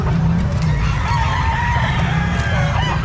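A three-year-old Golden Boy Sweater gamefowl rooster crows loudly and close at a Bocaue fowl market, one sustained cock-a-doodle-doo over a dense, busy background din.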